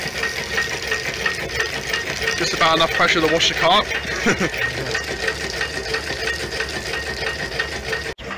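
A Stirling engine drives a 7 GPM water pump with a continuous mechanical clatter and hiss, a fast steady rattle like a sewing machine, while someone speaks over it.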